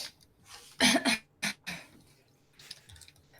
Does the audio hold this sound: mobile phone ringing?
no